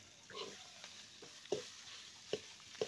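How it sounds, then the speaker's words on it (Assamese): Potatoes frying with spices in a pan give a quiet, steady sizzle broken by a few sharp scrape-and-stir clatters, each one short and close. "অলপ ভাজি ল'ব লাগিব দেই আলুখিনি"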